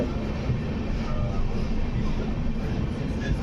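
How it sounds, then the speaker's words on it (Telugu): A delayed special passenger train pulls into platform 1 at Nagpur Junction, a steady broadband rumble and rolling rail noise filling the whole stretch without clear breaks. "మన ట్రైన్ ఇప్పుడే నాగ్పూర్ జంక్షన్లోకి ప్లాట్ఫామ్ నెంబర్ 1కి అయితే ఎంటర్ అవుతుంది."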